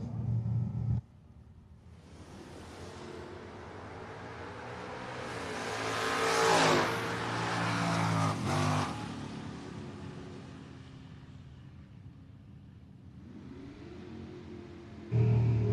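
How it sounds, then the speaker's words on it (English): Drag race between a pickup truck and a Chevrolet Camaro: engines roar up from a distance, swell loud as the vehicles pass, then fade away, with a brief announcer voice at the start and end. "Marty Flagel, 627 in the pickup. Taking on Bob Mullaney in the Camaro, 684."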